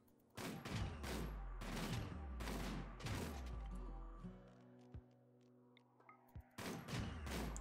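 Gunfire from colonists shooting at mechs in the colony-building game Rimworld, with repeated loud bursts in quick volleys, a brief lull with lingering tones, then another burst near the end.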